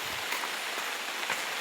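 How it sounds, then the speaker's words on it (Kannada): River water flowing at a large stream, a steady broadband hiss and rush heard up close without any speech. "ನೋಡಿ ಇಲ್ಲಿಂದಲೇ ನೀರು ಹೋಗ್ತಿದೆ"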